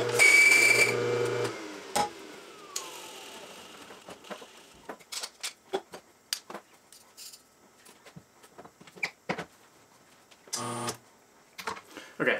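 A La Marzocco GS3 espresso machine with a rotary pump brews a shot: a loud pump hum and whine at the start that cuts off, then quiet clicks, drips and short hissing bursts, with a second brief pump run near the end.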